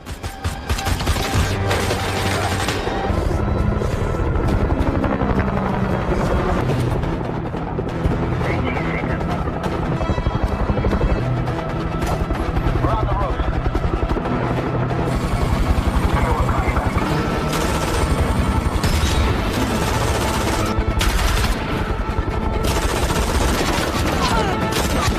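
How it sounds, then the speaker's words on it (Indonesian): A helicopter in a movie action chase with sniper gunfire from the aircraft: a loud, continuous rotor roar with bursts of rapid shots, sounding under a voice narrating. "sniper dari helikopter mencoba untuk menghalangi pergerakannya."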